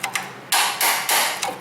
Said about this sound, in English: Get a hammer and a bar, and we'll just come up on these nuts.